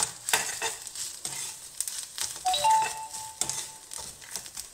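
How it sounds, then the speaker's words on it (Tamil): Tamarind and grated coconut being dry-roasted and stirred in a pan, soft scraping and light sizzling in short irregular bursts, close and fairly quiet. "புளி, தேங்காய் போட்டு ஒரு பரட்டினோடனே ஸ்டவ் ஆஃப் பண்ணிடலாம்."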